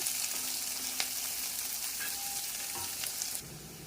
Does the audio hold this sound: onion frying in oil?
yes